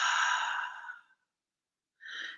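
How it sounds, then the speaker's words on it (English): Slow breathing during a guided meditation: a long, soft breath out fades away, a brief silence follows, then a shorter breath begins, close and alone with no talk. "And just breathe in and out."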